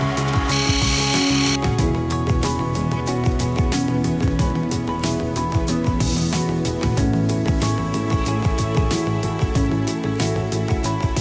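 In a home machine shop, a milling machine faces a black anodized top surface, giving a continuous mechanical whir with rapid, regular cutting ticks throughout, steady and fairly near.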